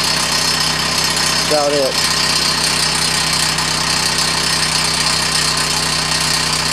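A 1990 Toyota Celica GT-S engine idles steadily and loudly up close, with a loose bolt rattling throughout and a few spoken words briefly over the running engine.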